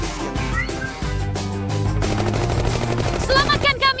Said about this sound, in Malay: Mereka menembak kami.